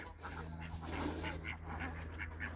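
Ducks and ganders calling on a farm with lambing sheep about, repeated honks and quacks rising over a steady low hum, fairly close and moderately loud.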